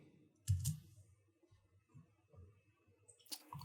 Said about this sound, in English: I'm not getting good response from my wireless keyboard here.